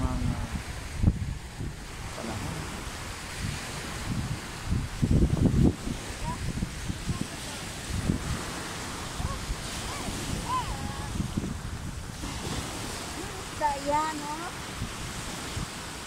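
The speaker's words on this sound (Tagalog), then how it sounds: "malakas ang alon sa dagat oh" Waves surge and crash against a background of wind rumble, with brief murmured voices and a few faint tonal sounds near the end.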